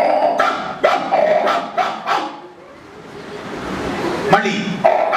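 Several sharp dog barks come in quick bursts, fairly close and loud, with a quieter gap between them. People talk in the background.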